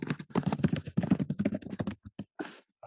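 Fast, close keystrokes rattle on a computer keyboard in dense bursts, then thin out to a few scattered taps and a short final flurry.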